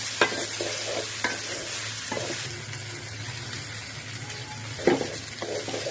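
Rice for beef biryani fries in a pot and gets stirred. A soft continuous sizzle runs under a few sharp scrapes and clatters of the stirring spoon, fairly close and with no talking.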